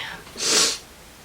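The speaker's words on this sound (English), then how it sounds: "Sorry for the sniffles." A single brief, close sneeze or sharp sniff from a person suffering from allergies, rising and fading within about a second.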